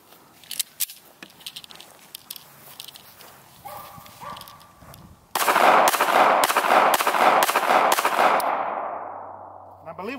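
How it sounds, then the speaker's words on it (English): A full magazine of .380 pistol rounds fired at a backpack: a rapid string of sharp, loud outdoor shots with echoing tails, preceded by faint handling clicks. "we're gonna start out with the 380, and we're not just gonna do two rounds"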